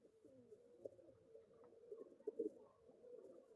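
Pigeons in a loft give soft, low cooing calls with a few louder coos near the end. The sound is fairly quiet and steady, with no talking.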